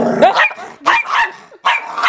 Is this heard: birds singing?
no